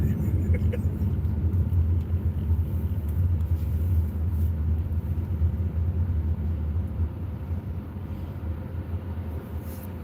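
A car rolling slowly through stop-and-go traffic, with a steady low engine and road rumble that stays close and even, easing slightly toward the end.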